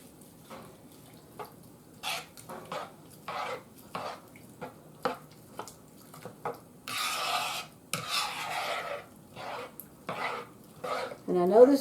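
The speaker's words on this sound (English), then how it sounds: "Let me give it a one big stir." Rice mixture for a spicy beef casserole stirred in a pot: a run of short scraping, rasping strokes in uneven rhythm, close up, with a longer wet churning stretch near the end and no talk.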